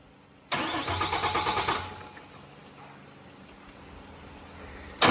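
A Cummins diesel engine with its grid heater removed cranks over in a quick rhythmic churn of starter pulses for just over a second without catching, then a quiet hum lingers and a sharp noise cuts in at the end.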